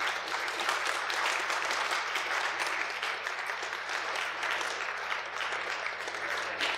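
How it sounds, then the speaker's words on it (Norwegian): At a Norwegian Liberal Party national congress speech, a hall audience applauds in a steady, dense wash of clapping that holds at an even loudness throughout without anyone talking. "Jeg skal ta med den applausen og hilse til mine naboer på Ullern."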